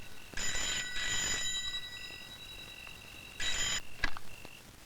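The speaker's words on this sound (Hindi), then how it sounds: "आ गया तेरे बाप का फोन। जा उठा" A telephone rings in two short bursts, a pause, then another burst, moderately loud with faint background noise and no talk.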